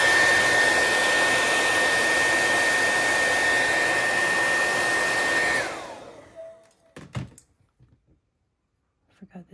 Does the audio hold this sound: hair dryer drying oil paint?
yes